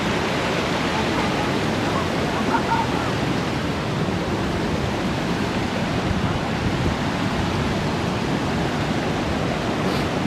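Sheep River Falls in Kananaskis Country roars as a continuous broadband rush of falling water, steady and loud with no pauses.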